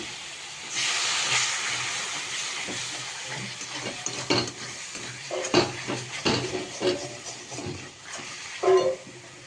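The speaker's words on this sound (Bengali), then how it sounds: "মশলাটা একটু কষিয়ে নিচ্ছি" Spice paste sautéing in a pan on a home stove, a steady sizzle and hiss with scattered scraping and stirring clicks against the metal, fairly close and alone.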